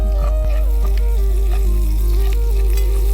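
Onions for Mughal biryani, with sugar added to help them caramelize, sauté loudly in a pan, giving a dense, continuous sizzle mixed with a steady tonal hum and occasional stirring knocks.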